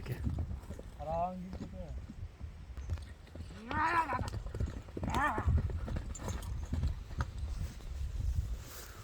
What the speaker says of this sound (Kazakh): Жарды эле чабып атат жаныбар.